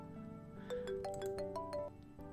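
A phone ringtone plays in a Christmas dating sim video game, a short bright melodic phrase of rising and falling electronic tones, clear and fairly soft, with no talking.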